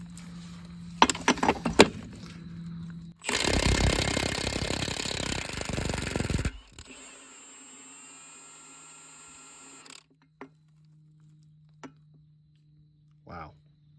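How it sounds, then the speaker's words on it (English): A 1/2 inch impact wrench hammers at a truck wheel's lug nuts in one loud, rattling burst of about three seconds, preceded by brief clanks and followed by quieter mechanical hum and scattered knocks. "I can't believe this 1/2 inch impact is taking it off."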